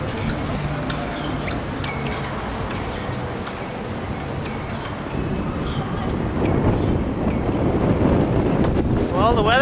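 Wind rushes and buffets the microphone continuously, growing stronger and gustier toward the end, with faint background noises.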